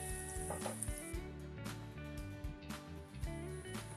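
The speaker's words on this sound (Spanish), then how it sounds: "Mientras se va salteando la cebolla" Finely chopped onion sautéing with a pinch of salt in a pan over medium heat, a steady close sizzle that runs under a layer of background music.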